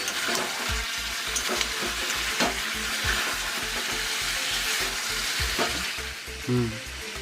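Fried potatoes go into chicken biryani masala frying in a pot, a steady loud sizzle with repeated stirring scrapes and clunks throughout, no talk.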